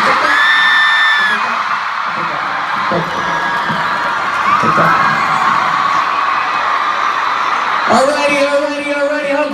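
A crowd at a live concert in Puerto Rico whoops, yells and cheers loudly and continuously, with scattered shouts and a voice breaking through near the end.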